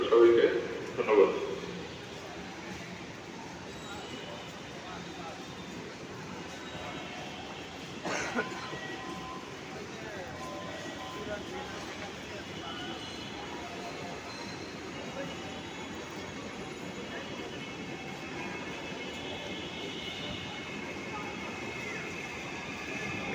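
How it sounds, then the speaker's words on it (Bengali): A Dhaka metro rail train running, heard from inside as a steady low rumble with faint wheel whine throughout, with a brief louder start and people talking over it. "এই হচ্ছে মেট্রো ট্রেন ঢাকার"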